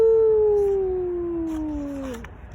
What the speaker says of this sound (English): He howled and howled as loud as his doggy lungs would let him.